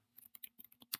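Quick, uneven keystrokes on a computer keyboard, about eight close, crisp taps in a second, typing code into a Service Portal page, with a faint steady hum underneath and no talking.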